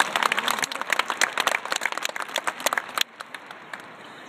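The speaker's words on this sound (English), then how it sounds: "Let's give him a nice round of applause." Audience applause at a 2012 high school graduation ceremony, a dense patter of clapping for about three seconds that then thins abruptly into a few scattered claps.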